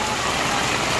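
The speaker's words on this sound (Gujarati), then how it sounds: "છેલ્લા 24 કલાકથી અવિરત જે વરસાદ ચાલુ છે" Heavy, unbroken rain after a full day of downpour in flooded Bodeli neighbourhoods makes a brief, dense hiss of drops pattering on surfaces, steady and close.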